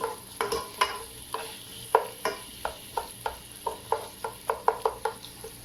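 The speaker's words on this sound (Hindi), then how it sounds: "तो ऑयल हो गया मेरा गर्म, मैं इसमें ये ऑयल डाल देता हूँ प्याज डाल के" Onions fry in hot oil for a home-style chicken yakhni curry, with a steady background sizzle broken by repeated scraping and stirring taps of a spoon against the pan, fairly close.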